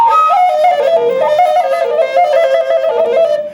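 Native American flute plays a jazz-styled, heavily over-ornamented version of a song, a loud, breathy solo melody full of rapid trills and grace notes, close and alone with no talk.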